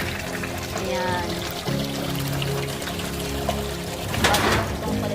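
Water pours steadily into a concrete catfish pond during a water change, a continuous rushing stream with a louder splashing surge near the end, while a person talks over it.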